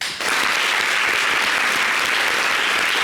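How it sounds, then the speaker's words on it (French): Audience applause at a live French-language broadcast show, a dense steady wash of clapping that swells in after a brief quiet start and stays loud and close throughout, with no talk over it. "Ça s'applaudit."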